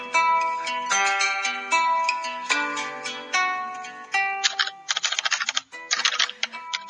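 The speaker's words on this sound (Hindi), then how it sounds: "टाइपराइटर के बटन दबने की आवाज सुनाई दे रही थी।" Typewriter keys clatter in quick, uneven bursts as a man in a coat and trousers types on a white typewriter in a closed room, with a tinny musical tone behind the early strokes and sharper clicks toward the end.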